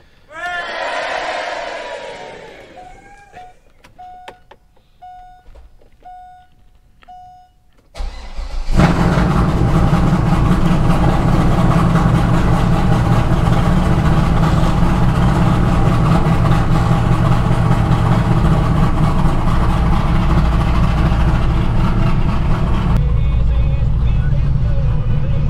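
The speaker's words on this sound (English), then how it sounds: "let me give you guys a cold start for the vet" A Chevrolet Corvette engine cold-starts with a sharp crank and bark, then settles into a loud, steady, rumbling idle, preceded by some brief clicks and a short voice.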